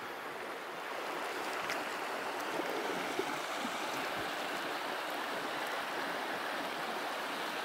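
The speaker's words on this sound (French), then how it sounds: "il y a quand même du courant, hein. Il y a beaucoup d'eau." Steady broadband rush of a full stream current flowing on the Ébron river, with standing water and mud nearby, continuous and fairly loud throughout with no voices.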